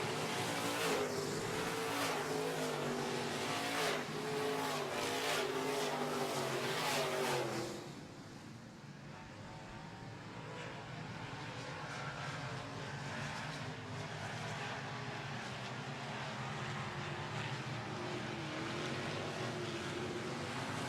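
Midwest modified race cars roar around a dirt oval during a B main, a loud sustained engine blare with passing surges that drops to a more distant, steady drone partway through; no talk heard.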